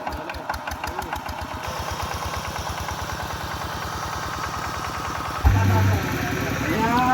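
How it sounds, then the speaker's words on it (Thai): A large power generator engine runs at an outdoor wedding, a steady close mid-pitched chugging rumble that continues throughout, with a louder surge near the end and faint voices mixed in. "เครื่องปั่นไฟนั่นแหละนี่"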